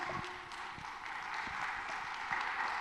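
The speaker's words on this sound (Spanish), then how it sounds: "¿Alguien le puede dar palmas a Jesús?" A church congregation claps in praise, a fairly faint, steady spread of applause with scattered sharper claps carrying through the room.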